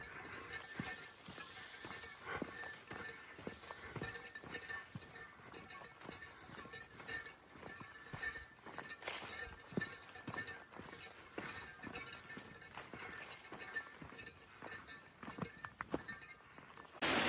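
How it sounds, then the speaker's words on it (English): Ice clinking inside a Yeti water bottle carried on a mountain run, faint repeated rattles in a loose rhythm against steady footfalls and outdoor background noise. "It's a Yeti and I put ice in it, so that's the ice clinking back and forth"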